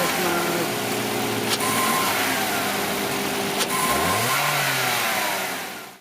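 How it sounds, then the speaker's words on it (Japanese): Toyota Corolla Cross with the 2ZR gasoline engine revving steadily up close, a continuous mid-range drone with a brief pitch dip and rise near the end, loud and without talk. "マイルドな響きで 2ZR カローラクロスも捨てがたい。"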